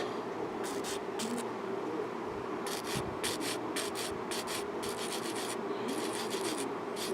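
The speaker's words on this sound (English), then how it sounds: "Then I'll get a finer grit to buff out a lot of those scratches." Abrasive rubbing on a small Warhammer miniature part to smooth out scratches, a quiet steady grinding broken by short rhythmic bursts of back-and-forth strokes, close up with no talk.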